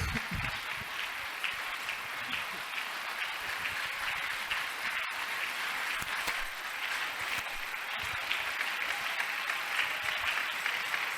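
A church congregation applauds at a French-language service, sustained dense clapping filling the whole stretch at an even level with faint voices mixed in.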